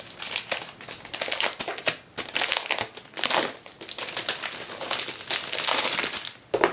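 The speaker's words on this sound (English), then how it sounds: "We'll take the paper off." Paper wrapping being peeled and crinkled off a journal, close-up bursts of crackling and rustling that come in uneven handfuls with short pauses between.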